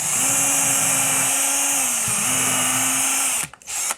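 A power drill pre-drills holes in a hardwood guitar body on a CNC wasteboard, a loud close steady whine that dips briefly midway and then cuts out near the end.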